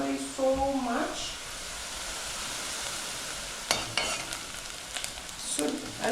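Chopped tomato goes into onion frying in a pan, giving a steady soft sizzle broken by a few sharp scraping clicks of stirring, close by.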